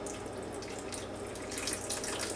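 Liquid drains off cooked asparagus in a steady, close trickle and splash, continuous and moderately quiet, with no talking.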